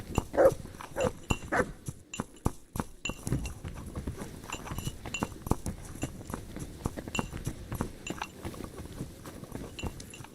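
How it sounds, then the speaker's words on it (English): A dog in the video game Kingdom Come Deliverance II, giving several short barks and snuffles near at hand, mixed with light clinks and clopping footsteps in an irregular rhythm; no talk. "You silly doggy."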